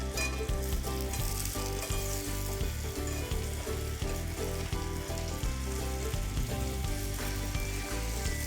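Vegetable tandoori momos sizzle and fry steadily in a hot pan, a dense continuous crackle with soft stirring and turning sounds, close and loud with no talking.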